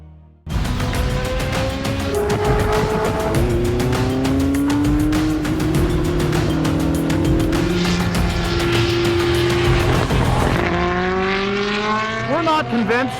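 A Formula 1 race car drives past at full volume, its high-pitched engine note rising and falling through gear changes for several seconds before climbing sharply again at the end.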